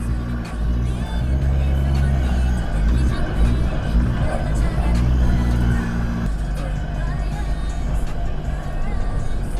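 Car engine revving and pulling hard under acceleration while driving on sand on Fraser Island, a steady loud drone throughout with people talking over it.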